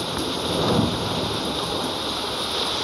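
Heavy rain pours in a horror video game, a dense, steady hiss with a faint low thunder rumble underneath, loud and continuous with no voices.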